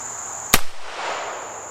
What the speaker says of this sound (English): First up is the 22 long rifle out of our Heritage Rough Rider